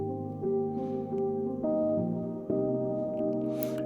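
Original sample loop for a drum and bass track: sustained harmonic synth tones shifting between a couple of notes, steady and fairly loud, with no voices.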